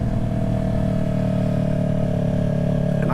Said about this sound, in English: I mean, I can still hear my exhaust, but just not as good.